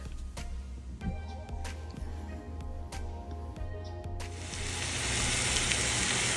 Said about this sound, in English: Now on top of those onions, I'm gonna add my hamburger patties.